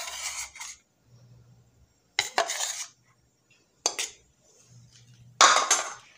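Biscuit dough for old-fashioned glass biscuits is mixed with a portion of egg in a bowl, giving four short bursts of scraping and clinking utensil sounds with quiet pauses between, close and fairly loud.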